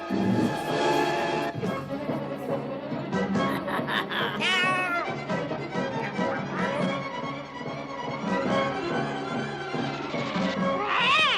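A cartoon cat meows repeatedly in a Smurfs animated scene, the calls loud and close over a busy, dense soundtrack of music and effects.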